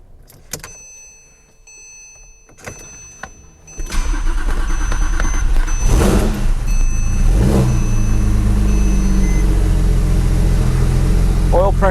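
A Porsche 911 Turbo 997.2 with a freshly rebuilt 9A1 engine cranks and fires, then settles into a loud, close idle with a couple of brief throttle blips rising over the rumble, and a person speaks faintly at the start.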